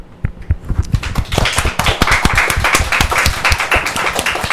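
Lively applause from a live studio audience at a Korean esports talk show, with scattered individual claps that quickly swell into steady, close clapping and continue to the end.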